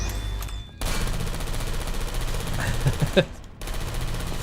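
Rapid automatic turret fire from the Portal: Unity Reboot video game rattles steadily through most of the clip, with a couple of sharper bursts near the end before it cuts off.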